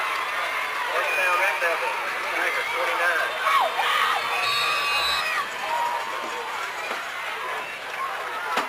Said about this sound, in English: The Washington-Wilkes crowd does not like the call, as you can probably hear